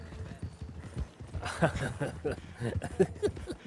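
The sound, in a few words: horse hooves while riding, from video game Red Dead Redemption roleplay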